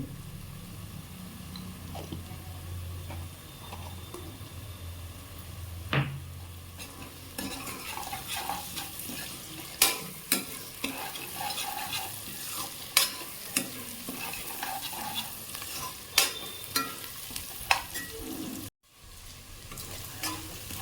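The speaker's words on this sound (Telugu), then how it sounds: "ఉల్లిపాయ ముక్కలు వేగినాయి కదండి" Onion pieces with a pinch of turmeric fry in a pan for chicken curry, a constant close sizzle broken by repeated stirring scrapes and clinks of a spoon, with a brief dropout near the end.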